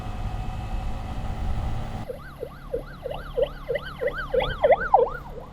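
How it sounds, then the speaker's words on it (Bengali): An ambulance siren wails in repeated rising and falling sweeps as it passes along a Bangladeshi highway beside jammed traffic, starting abruptly and growing louder and closer over steady road and engine rumble. "ডান পাশে জ্যাম, এই জন্য বাম পাশ দিয়ে অ্যাম্বুলেন্স চলে যাচ্ছে।"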